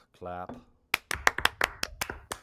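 A short spoken word, then a group of people clapping in a brief, uneven burst of about ten sharp claps that quickly fades.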